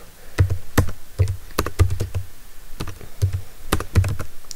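A command is typed on a computer keyboard at an Ubuntu Server prompt: a steady run of close, crisp key clicks in small irregular bursts, heard alone with no talking.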